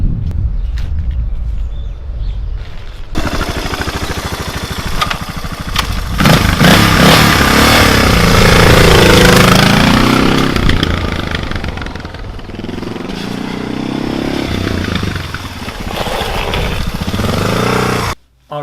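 A Suzuki DR650 motorcycle engine runs loud and steady for most of the stretch, a rough broadband roar with shifting revs that cuts off abruptly at the end; no one talks.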